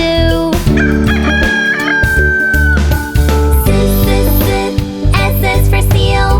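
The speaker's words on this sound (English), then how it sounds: "The rooster sings cock-a-doodle-doo" A rooster gives a loud, close cock-a-doodle-doo crow, one long rising and falling call followed by more crowing and clucking over a steady musical backing.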